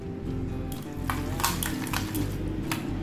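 Dal batter for fritters gets beaten vigorously by hand in a bowl, producing a rhythmic wet slapping and stirring with occasional louder squelches over a low background hum and no talking.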